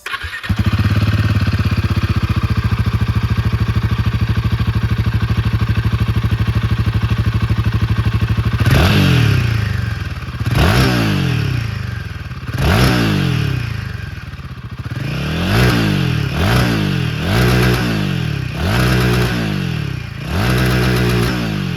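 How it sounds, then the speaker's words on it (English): A Royal Enfield Himalayan 450 with the new Sherpa 450 engine runs at a steady close idle, then its exhaust barks through a series of sharp throttle blips that rise and fall, coming faster and closer together toward the end. "let's listen to the exhaust note of the brand new Sherpa 450 motor"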